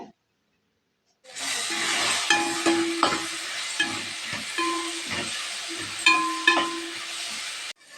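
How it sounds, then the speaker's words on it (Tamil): Tomatoes with a handful of mint and coriander sizzle steadily in a hot pan for egg biryani, with repeated scraping stirs and clinks of a spoon against the pan cutting through the continuous frying hiss. "தக்காளி நல்லா சாஃப்ட் ஆகுற வரைக்கும் நல்லா வேக வச்சு எடுத்துக்கலாங்க"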